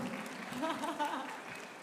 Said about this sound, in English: Let's have a round of applause for this, for Manu.